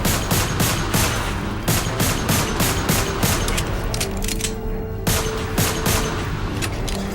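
Rapid, loud bursts of gunfire in the video game Lost Planet 3, dense repeated shots in a steady fusillade with a brief lull near the middle, dominating throughout; no talking.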